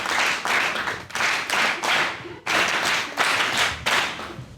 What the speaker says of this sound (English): let's please just give another round of applause to our first keynote speaker